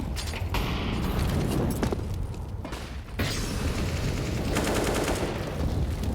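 Dense pistol fire from a Counter-Strike match on the Nuke map rattles almost continuously, with overlapping shots and mechanical clicks in a loud, busy mix.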